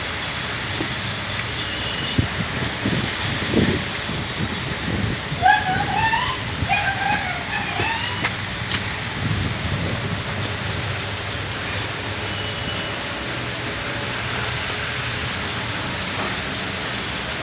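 Strong wind and heavy rain from cyclone Montha roar as a steady, dense wash of noise, with a voice talking over it throughout.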